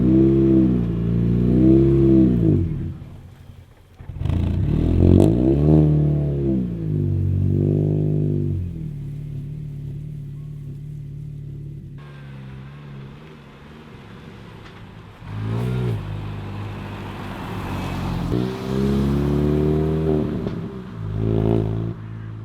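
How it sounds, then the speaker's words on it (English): Modified Mini R53 driving and accelerating, its engine revving up through the gears in loud, close surges, with gear-change dips between rises and a lull mid-run before it pulls hard again. "let's take this out properly for a drive and see how good it is"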